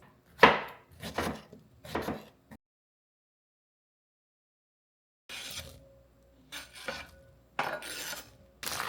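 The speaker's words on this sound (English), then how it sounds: "We'll also want to do a rough chop of our fresh strawberries." A knife rough-chopping fresh strawberries in quick, close bursts of sharp strokes, then a silent pause of about three seconds before the rapid chopping resumes, with no voices.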